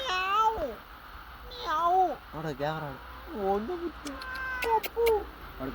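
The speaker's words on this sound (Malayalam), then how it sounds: "ഇവിടെ ഒരുപാട് പൂച്ചകളുണ്ട്" Several cats meow again and again, with drawn-out, wavering cries from close by, some overlapping, against a low background hum.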